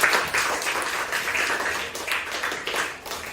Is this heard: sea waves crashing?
no